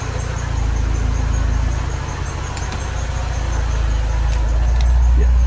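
A Porsche 968 engine runs steadily after an alternator and wiring loom replacement on a flood-damaged car, a low continuous idle drone heard close up with faint clicks and shifts in level.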